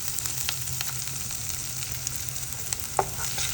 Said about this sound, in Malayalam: ഉള്ളിയൊന്നും മുരിഞ്ഞ് ഇടുന്നിട്ട് അതിലേക്ക് ഇഞ്ചിയിട്ട് പച്ചമുളക് വഴറ്റി കൊടുക്കുകയാണ്